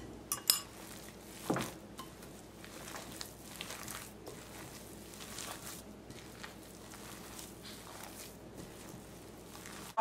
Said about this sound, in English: I'm going to put in here the cup of the Romano cheese and the Parmigiano cheese, and I'm going to try to stir everything